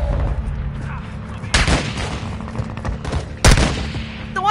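Gunfire in Call of Duty: two loud, close bursts of shots stand out about two seconds apart over a constant backdrop of battle noise and rumble.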